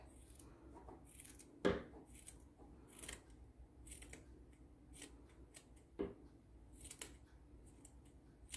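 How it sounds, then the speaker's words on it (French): Small scissors snip yarn repeatedly in quiet, irregular crisp clicks, close up, with one or two sharper cuts standing out. "Les bons petits ciseaux qui coupent."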